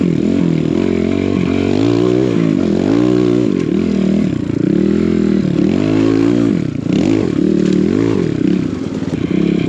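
A 4-stroke enduro motorcycle rides through fresh, sticky snow, its engine loud and close, rising and falling in repeated revs with clattering and scraping as the bike works through the powder.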